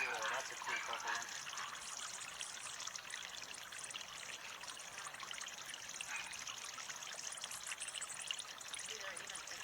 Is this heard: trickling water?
yes